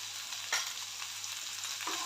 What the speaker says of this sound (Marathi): आलं लसूण सर्व चांगलं परतून घेऊया